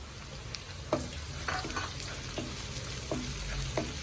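Chopped green chillies fry in hot oil for a garlic dal curry, a soft continuous sizzle with several light stirring clicks and scrapes, close and fairly quiet with no talking.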